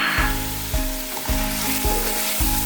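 Ginger, garlic, crushed green chillies and bay leaf sizzle steadily in hot oil, a continuous close frying hiss with soft periodic stirring scrapes and no voices.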